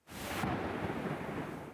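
A thunderstorm rumbles over the Gold Coast, a broad roll of thunder mixed with heavy rain and wind noise that rises sharply and holds steady for nearly two seconds.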